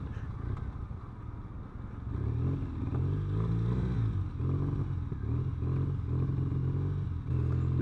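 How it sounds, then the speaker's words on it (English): A Triumph Brooklands Bonneville café racer motorcycle engine idles roughly and unevenly after sitting unused, a close, steady low rumble with a faintly uneven throb running throughout. "It hasn't been run for a little while, so it's gonna sputter a bit to start with,"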